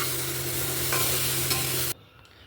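Onion and dalia land in a hot pan with a loud, dense sizzle that is stirred for about two seconds, then the sound drops abruptly to a quiet background.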